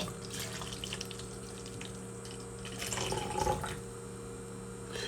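A drink is poured into a Starbucks cup: a soft, steady trickle of liquid that swells for a moment, faint and close against a low background hum.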